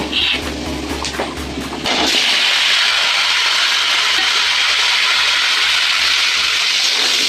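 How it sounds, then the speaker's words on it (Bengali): Potatoes dropped into hot oil in a kadai already tempered with spices and dried red chillies: a loud, dense sizzle bursts in suddenly and then roars on steadily and close. "আলুগুলোকে এবার লাল লাল করে ভেজে নেব।"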